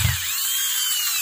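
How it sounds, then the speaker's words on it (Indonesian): A small electric drill removing leftover material while building a symmetrical power supply: a steady, high, thin whine running throughout at close range, with a brief low bump at the start. "Buangnya pakai bor ya."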